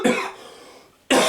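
A single harsh cough bursts out close up, then fades to near silence before a second loud cough follows about a second later.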